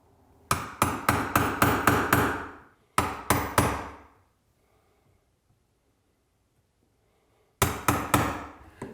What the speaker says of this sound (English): We can actually chisel and recess the wood